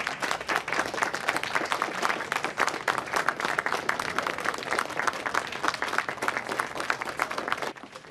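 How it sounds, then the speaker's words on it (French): A studio audience bursts into sustained, dense applause for a cook, the clapping loud and even throughout before easing slightly at the very end. "On l'applaudit bien fort!"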